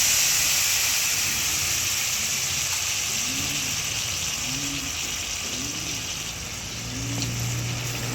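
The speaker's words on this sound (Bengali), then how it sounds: "এইবার আমি তেঁতুল গোলানো জলটা ওর মধ্যে দিয়ে দেবো।" Tamarind water poured into a hot pan with dried chilli and five-spice tempering gives a loud, continuous steamy hiss and sizzle that fades slightly, with no voices over it.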